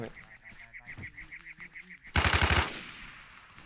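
Rapid bursts of automatic gunfire ring out in an online shooter game, with a fast rhythmic volley followed by a louder, denser burst near the end.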